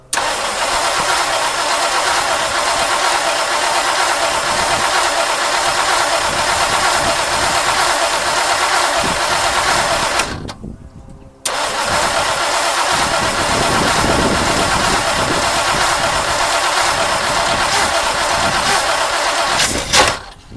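A 1959 Mercury Monterey, asleep for a decade, cranks and fires: a loud continuous starter grind and engine churn close by, a brief pause near the middle, then more sustained cranking and running noise.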